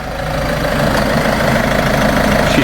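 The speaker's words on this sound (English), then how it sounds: "let's start this engine" A Land Rover Freelander 2 engine runs at a steady, close idle after starting, a continuous low rumble with a light ticking knock, heard alone for a few seconds with the car raised off the ground.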